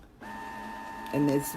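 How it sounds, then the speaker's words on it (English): A printer whirs with a steady mechanical hum, then a louder grinding feed kicks in briefly near the end. "I apologize if you can hear the printer in the background"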